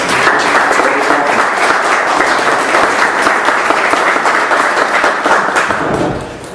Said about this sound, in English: So let's give them some big applause for all of us.